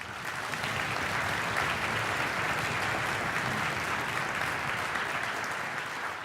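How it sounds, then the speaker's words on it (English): A concert band audience gives a hearty round of applause for the band's paraprofessional, a thick, sustained roar of clapping from a full crowd that holds steady for around six seconds. "really deserves a hearty round of applause"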